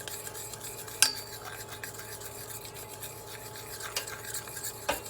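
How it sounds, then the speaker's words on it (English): Spoon stirring a little milk into chocolate in a cup for frothed hot cacao, with a soft continuous scraping swirl and a few light clinks of metal against the rim, close and quiet. "you just mix that little bit of milk into the chocolate"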